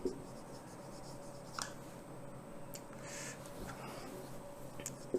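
Pen scratching on paper or board while a biology definition of mutation is written out, soft continuous strokes with a few faint taps, quiet and close, no talking.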